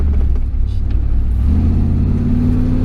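A 1987 IROC Z28 Camaro with a crate motor accelerates hard, its deep engine roar loud and close and climbing in pitch as it pulls, filling the whole moment with steady low rumble.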